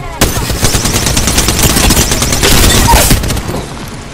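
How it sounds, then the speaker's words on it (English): Enemy gunfire in Apex Legends rattles in loud, rapid automatic bursts that run almost without pause for several seconds, close and dominant. "The enemies are shooting at me"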